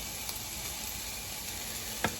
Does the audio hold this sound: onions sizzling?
yes